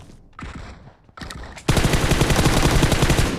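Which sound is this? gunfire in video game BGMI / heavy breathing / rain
gunfire in video game BGMI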